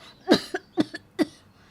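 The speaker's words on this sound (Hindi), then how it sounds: "तभी चंदा को ज़ोरदार खांसी हो जाती है" Several heavy coughs from a woman in a home setting, one strong bark-like cough followed by a rapid series of shorter ones, close and fairly loud.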